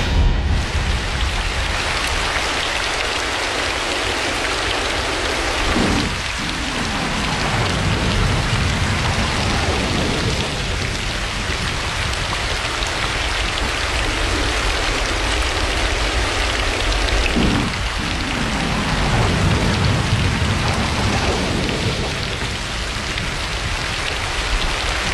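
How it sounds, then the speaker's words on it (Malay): Steady heavy rain pours throughout as a radio drama sound effect, with two deep rumbles of thunder rolling in around six and eighteen seconds, loud and continuous with no voices. "Setiap kali bila hujan turun, bunyi guruh"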